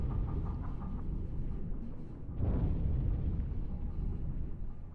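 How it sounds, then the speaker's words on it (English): A torpedo strikes a ship in the submarine game Uboat, heard as a deep, rumbling explosion that swells midway through over a constant low droning background. "So I think the torpedo at the crippled ship did actually hit"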